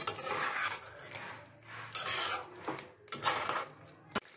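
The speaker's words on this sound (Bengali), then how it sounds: "মশলার সাথে ভালো করে মিশিয়ে নিতে হবে আলুগুলোকে" Fried potatoes being stirred into spices in a pan for Kashmiri aloo dum, with repeated close rasping and scraping strokes in an uneven rhythm and a sharp knock at the end.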